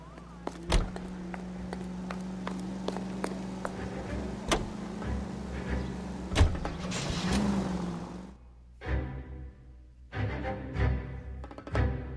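Car driving in LA Noire, a low steady engine hum with sharp clicks and clunks scattered over it, then a door-like thud and shifting mechanical rattles near the end.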